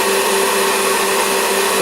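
A mixer whipping egg whites toward firm peaks, a loud continuous whirring motor hum that holds steady from start to finish, close by and with no other sound.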